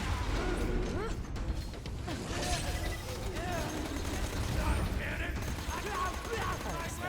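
A Maliwan-made Moxxi gun fires in the Borderlands 2 video game, with rapid shots and mechanical clatter mixed into a dense, loud game soundscape, while a voice talks over the action.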